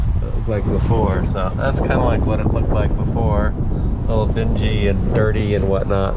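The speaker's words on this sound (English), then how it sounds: "Sorry about the wind, but it's super windy now." Heavy wind buffets the microphone in a steady roar on a boat deck while a person talks over it throughout.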